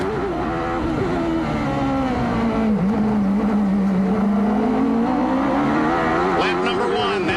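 Onboard engine of Bobby Rahal's 1993 CART race car on the Detroit street circuit, a loud sustained whine that dips through a corner and climbs again, with a commentator talking over it.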